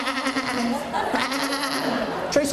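A voice imitates a sheep's bleat during a comedy routine, a wavering, nasal sung tone lasting a couple of seconds, loud and close.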